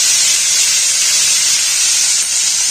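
Ginger, garlic and turmeric powder with rock salt sizzle in a hot pan, a steady close hiss that holds evenly throughout without pause.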